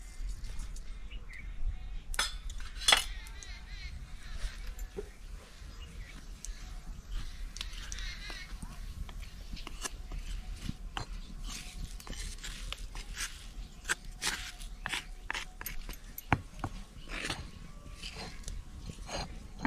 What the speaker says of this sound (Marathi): आपली जिरी मोहरी चांगली तडतडली